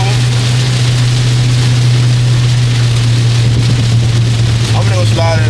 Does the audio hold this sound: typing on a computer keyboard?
no